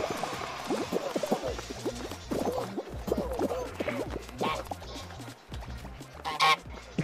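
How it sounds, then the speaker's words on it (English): Several players spamming the goose honk emote in Fall Guys, a rapid chorus of overlapping nasal honks in bursts over bouncy game music, with a louder honk near the end. "there's a load of you doing the goose!"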